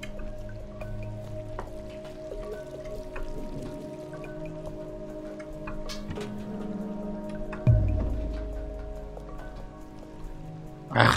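Running water in the video game Stray, a steady close patter and trickle over a low background hum, with a heavier splash near the end.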